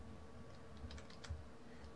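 Soft, quick clicks of typing on a computer keyboard come in a brief cluster, faint and close against a low steady background hum.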